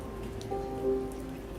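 Rain falling steadily on surfaces in the video game South of the Circle, a soft continuous patter with a faint tonal hum beneath it, no voices.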